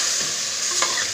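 Chicken sautéing with ginger-garlic paste makes a brief, steady close sizzle, with a quick scrape of stirring near the end.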